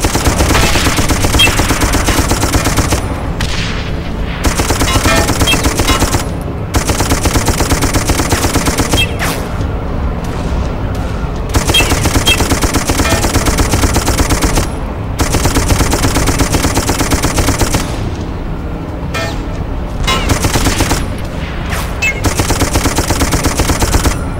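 Machine gun fire in the video game Darkest of Days roars in long, loud, continuous bursts, separated by a few brief gaps, with no talking.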